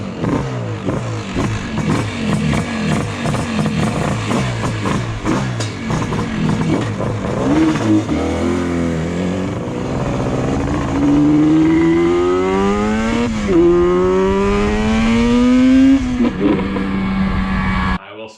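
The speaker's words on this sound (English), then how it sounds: "It is a terrible sounding bike in the best way possible." A 1979 Yamaha RD400 Daytona Special two-stroke motorcycle revving, its raspy engine pitch climbing and falling through repeated throttle blips, loud and close and sustained throughout.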